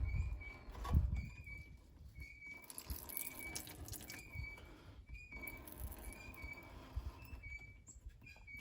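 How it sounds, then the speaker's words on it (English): Brake fluid drains from the caliper of a 2016 Ford Escape FWD into an oil drain pan as the piston retracts, faint trickling and dripping with small splashes and clinks, recorded close and quiet. "the brake fluid is going to come out"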